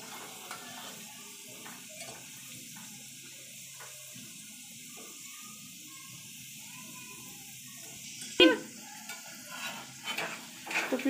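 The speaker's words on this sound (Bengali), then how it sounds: "তো পিঠাগুলো আমি একটু লাল করে তেলে ভেজে নিব।" Pitha cakes made with egg and flour fry in hot oil with a quiet, steady sizzle, then a few louder utensil clatters and scrapes near the end.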